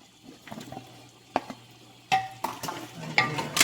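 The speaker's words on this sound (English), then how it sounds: "I'm gonna throw in seasons and my potatoes. Let that cook in" Curry goat in a pot with seasoning and potatoes being stirred, a few scrapes and clatters of a spoon against the pot, fairly close, with quieter gaps between strokes and no talk.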